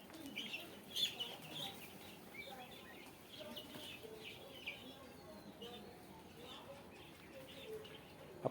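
Chickens on a poultry farm in Bakshiganj, Jamalpur cluck softly with scattered chirps, faint and intermittent against quiet background noise with no clear speech.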